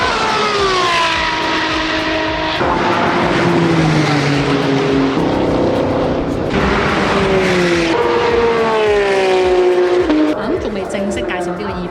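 Cars lapping the circuit at the Milan Monza Motor Show (MIMO) in Italy, a mix of sports, race, electric and private cars, their loud engines rising and falling in pitch as they rev and pass continuously, with voices in the background.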